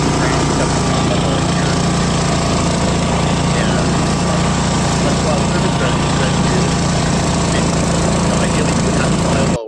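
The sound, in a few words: mower cutting cover crop, played video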